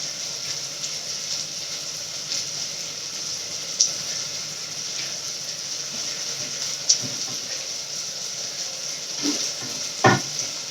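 Fish simmers and sizzles in a pan of ground-paste fish curry, a steady close bubbling hiss broken by a few light clinks and stirring scrapes.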